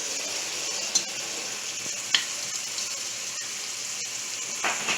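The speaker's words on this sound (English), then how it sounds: "Let the onion cook up a little bit so it whittle down." Onions soften in a pot for Guyanese cook-up rice, a constant low sizzle broken by a few soft clicks of a stirring spoon against the pot.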